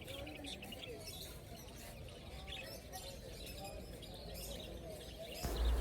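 Many finches, Java sparrows and cockatiels chirp and tweet together in a dense, continuous chatter at a pet market in Saudi Arabia, steady throughout with busy background noise.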